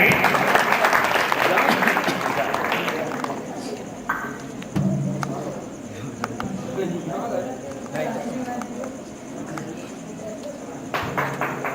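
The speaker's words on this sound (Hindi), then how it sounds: "जोरदार तालियों से स्वागत करें।" Audience applause welcoming a poet at a kavi sammelan poetry gathering: loud clapping for the first few seconds, then fading to scattered claps and thumps under a voice talking.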